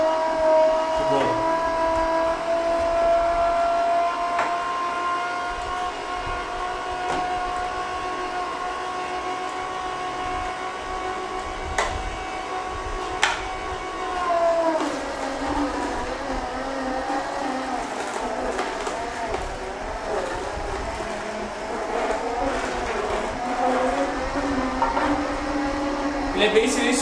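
A slow juicer steadily extracting juice while pulp fibre is pushed out, a continuous low motor drone with grinding texture running throughout; someone talks over it for much of the time.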